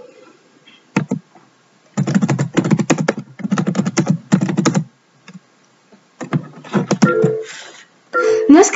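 Computer keyboard typing close up in bursts of rapid key clicks separated by short pauses, loud and alone with no voices.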